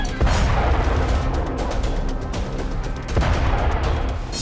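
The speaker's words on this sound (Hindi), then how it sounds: "रात के वक्त इजराइल ने रिहायशी इमारत पर 3000 किलो का बम बरसाया" Israeli airstrikes hitting a residential building at night in Dahiyeh, Lebanon, with a 3000 kg bomb among several strikes: loud, close blasts and a sustained roaring rumble, with two sharp impacts standing out near the start and later on.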